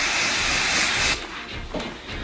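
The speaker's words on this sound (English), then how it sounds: "I'm going to go ahead and spray this one with the hairspray." An aerosol can of hairspray hisses steadily onto a stamped card for about a second, then stops, leaving a faint rustle and a brief second puff.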